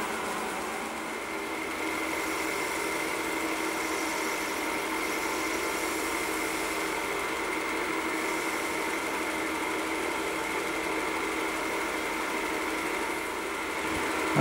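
Wood lathe spins a pen blank during sanding and polishing, giving a continuous, even motor whir with a steady mid-pitched hum and no talking, unchanged for the whole stretch.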